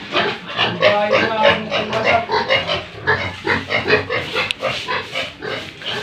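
Piglets grunt close by in quick, overlapping bursts, a busy rhythmic chorus of snorts and oinks that continues for the whole stretch.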